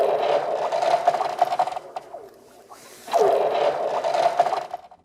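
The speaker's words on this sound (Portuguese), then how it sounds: "É difícil dizer se isso aqui é um som de gelo ou de um filme do Star Wars." Cracking ice on frozen Gun Lake in British Columbia, producing eerie, sci-fi-like pinging and whooshing echoes in two bursts separated by a brief near-silent gap.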